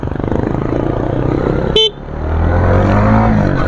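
A Honda Winner X 150 motorcycle engine runs steadily, then a short, sharp honk of its horn cuts in before the engine revs up again.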